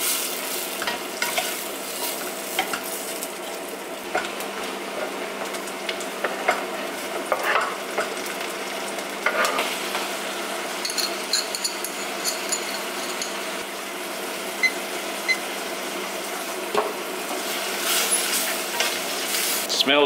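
Ingredients for a dal curry fry in a pan, producing a continuous crackling sizzle with frequent stirring clatters and scrapes that carry on steadily for the whole stretch.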